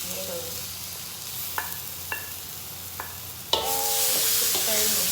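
Tomatoes stirred into garlic and ginger frying in a pan, with a steady low sizzle under a few sharp utensil scrapes and clinks, the frying growing louder and brighter after a tomato-hitting-oil burst near the end.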